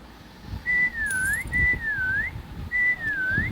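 A Roblox character whistles in Meccha Chameleon, three repeated swooping tonal whistles, each dipping and rising, sounding clearly over soft background game noise.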